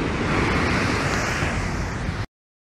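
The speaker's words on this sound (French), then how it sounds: "Je peux vous montrer les jolies vagues qui se forment." Ocean waves break at the seaside, a loud continuous wash of surf with some wind, cutting off abruptly after about two seconds.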